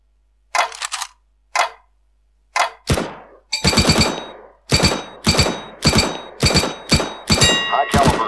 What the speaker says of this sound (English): Fire in short, controlled bursts.